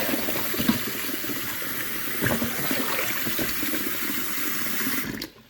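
A kitchen tap runs cold water steadily over cooked potatoes, a continuous splashing hiss that stops abruptly near the end.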